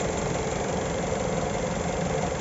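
A Ford Escape engine idles roughly with a misfire, its idle speed rising and falling and the engine shaking; a steady, close mechanical drone with uneven knocking pulses runs throughout with no voices.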